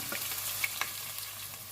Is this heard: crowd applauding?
no